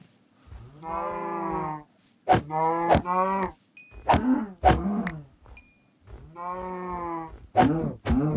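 Cows lowing in the Minecraft video game, a series of loud close moos repeated in several separate calls with short gaps between them.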